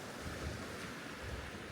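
Sea waves wash against the shore at Tioman Island in a steady, broad rush of surf mixed with wind noise, and no voices can be heard.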